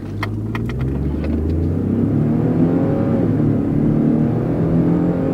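Twin-turbo six-cylinder car accelerating hard from a stop in sport mode, its engine rumbling and revving up close and loud, the pitch climbing steadily through the gear.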